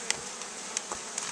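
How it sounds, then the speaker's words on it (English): Honeybees swarm around a five-frame nuc hive, a steady close buzzing drone with a few individual bees whizzing past in brief louder bursts. "You can see the 5-frame nuke is still pretty exploding with bees"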